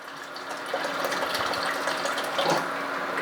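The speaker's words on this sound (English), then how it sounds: "I ended up just putting more water here" Water pours steadily into home-brewing gear while a coffee porter is being brewed, a continuous close splashing gush at moderate level.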